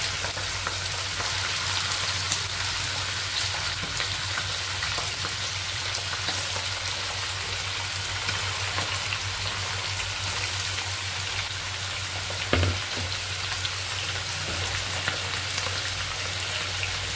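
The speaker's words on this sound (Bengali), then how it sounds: "গ্যাসটা হাই ফ্লেমে দিয়ে আমি মাংসটা ভেজে নেব।" Raw meat frying in well-heated oil over a high gas flame makes a steady, dense sizzle that carries without a break, with a brief louder spatter near the end and no voices.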